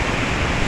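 Broad, continuous wash of surf on a beach shore at Barangay San Isidro Norte, Binmaley, Pangasinan, loud and steady across the short stretch with no voices.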